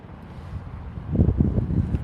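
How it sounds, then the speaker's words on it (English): Cold wind blowing outdoors beside a small campfire, a low rumbling buffet across the microphone that gusts louder partway through, with no talking. "There's that wind. That is cold."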